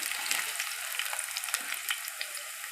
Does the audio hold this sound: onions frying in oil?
yes